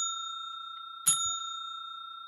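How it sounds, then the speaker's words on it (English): A timing bell rings once, sharp and close, to mark the end of a slot at a pitching session in Malaysia, cutting briefly through a steady electronic hum. "And there goes the second bell."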